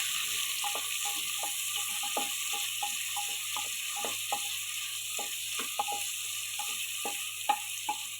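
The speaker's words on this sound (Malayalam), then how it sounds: "നന്നായിട്ടൊന്ന് വഴറ്റി എടുക്കാം." Chicken curry masala sautéing in a pan, a steady low sizzle with repeated soft scraping strokes of a spoon or spatula at a regular pace throughout.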